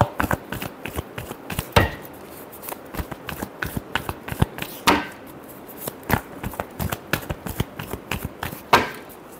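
Tarot cards being shuffled by hand, a steady run of crisp riffling slaps and flicks close up, with a few louder snaps in between and no talking.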